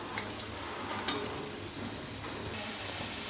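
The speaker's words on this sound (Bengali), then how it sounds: "আলুগুলো আমি হাই ফ্লেমেই আস্তে আস্তে নাড়াচাড়া করতে থাকবো যাতে একটু ভাজা ভাজা টাইপের হয়" Potatoes frying and being stirred in a pan on high flame, a steady soft sizzle with faint scraping and light ticks of the utensil, close and continuous.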